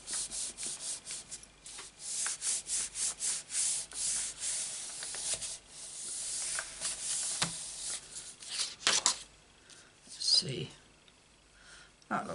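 Paper scrap rubbed onto a card during stamping crafts, a series of soft, close scratchy strokes with repeated rhythmic rubbing, then sparser rustling, with brief talk.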